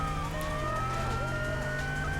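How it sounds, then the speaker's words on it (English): A traffic police car siren wails steadily in the Midnight Club: Street Racing video game, a loud sweeping tone over engine roar during a London street race. "Nice boost there, traffic police car."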